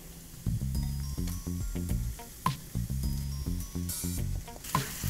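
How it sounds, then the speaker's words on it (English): Shrimp going into hot oil with garlic in a pan, a string of close sizzling bursts and crackles repeating over a few seconds as pieces land and cook, with no talking. "And now I'll add the shrimp."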